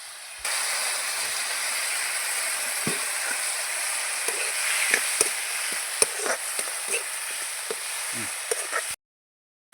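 Food sizzles and fries steadily in a hot pan while a utensil scrapes and stirs it in irregular clicks and knocks, close and fairly loud, with no talking.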